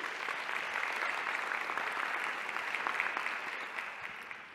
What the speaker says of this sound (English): So huge round of applause for two Chilean companies that have just joined the Food Nutrition Innovation Council.